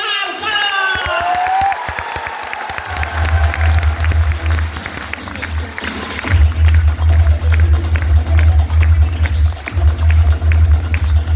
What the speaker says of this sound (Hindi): उनके सम्मान में अभी तक का सबसे जोरदार ताली होनी चाहिए।